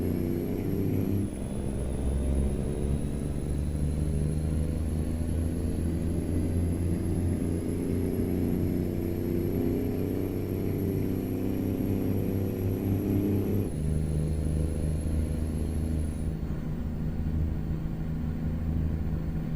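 Cab over truck engine in American Truck Simulator: a steady low diesel rumble and drone running continuously, with a faint high whine above and a brief shift in tone partway through.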